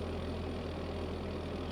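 An old farm tractor engine, just jump-started with a shot of ether, idles a little rough and smoky with a steady, low, throbbing drone, close by and alone.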